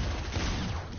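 Sustained gunfire from a video game firefight in a solo tournament match, a dense continuous burst of shots close and loud for the whole second, with no speech over it.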